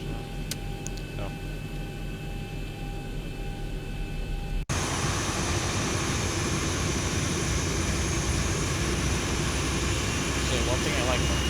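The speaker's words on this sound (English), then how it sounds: "So now we can also start that engine." Simulated Boeing 737-800 jet engine start-up in X-Plane 11, first a quieter cockpit hum with faint ticks, then an abrupt jump into a loud, steady broadband engine roar with a high whine held to the end.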